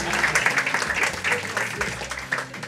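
Studio audience applause on a Turkish late-night talk show, a sustained patter of many hands clapping at moderate loudness, with some voices mixed in.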